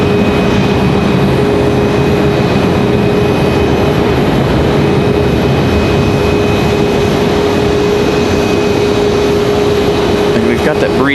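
A United Airlines Boeing 737 MAX is starting its jet engines at an airport: a loud, steady broadband roar with a constant high whine, heard from nearby for the whole stretch.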